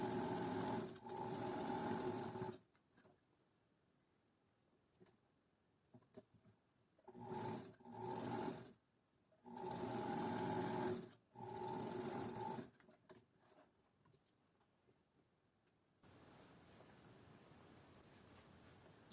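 A sewing machine stitches a narrow seam on a shirt cuff opening, running in bursts of steady, close whirring with short pauses between them, then going quiet near the end.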